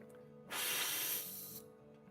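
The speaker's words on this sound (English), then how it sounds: "the inside of the cup with the Q-tip while I'm spraying the water out of it" Airbrush spraying water out through its paint cup while the cup is swabbed, a steady close hiss lasting about a second with quieter airflow before and after.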